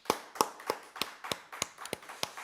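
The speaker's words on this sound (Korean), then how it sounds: "하나님 앞에 영광의 박수 드리겠습니다." A church congregation claps in praise during a Sunday worship service. The claps come as a steady, evenly spaced beat of about three per second, crisp but fairly faint, with no talking over them.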